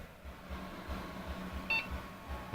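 A self-built desktop computer gives a short electronic beep at its first startup, one brief tonal chirp standing out over a low steady hum and faint room noise.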